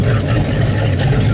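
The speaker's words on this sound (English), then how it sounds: "make sure that you have water flow coming out of your exhaust" A boat engine's exhaust discharges cooling water in a steady, loud, low churning rumble with a continuous splash, close by and unbroken.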